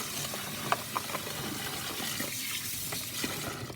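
Fresh rosemary sprigs rinsed under a running kitchen tap, a steady close stream of water with a few small splashes and clinks, no voices.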